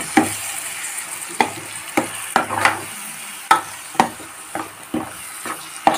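Tomato puree is stirred into fried spices in a pan over a low flame for shahi egg kofta: repeated scraping strokes of a spoon through the thick mixture over a steady, close sizzle.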